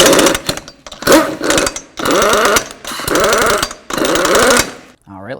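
An impact or power tool runs down the lug nuts on a front wheel of a 2003–08 Toyota Matrix, giving five loud rattling bursts, each about a second long, separated by short pauses and heard close up.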